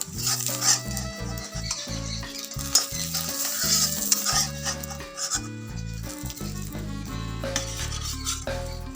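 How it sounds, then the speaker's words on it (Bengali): An egg fries in a home kitchen pan, with loud close scraping and clattering of a utensil against the pan over a sizzle, shifting in uneven bursts. "দেখো এদিকে ডিম ভাজা হয়ে গেছে"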